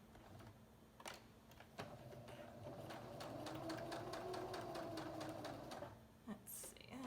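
A sewing machine stitches around a circular fabric ornament made from a men's shirt, a close, fast, even run of needle strokes after a few brief starts, ending with a short clunk.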